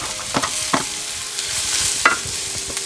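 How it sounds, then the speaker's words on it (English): Mushrooms frying in a pan with a steady soft sizzle, broken by a few scraping stirs of a utensil against the pan, close and moderately quiet, no voices. "And just stir this in and cook it until the mushrooms have brown some."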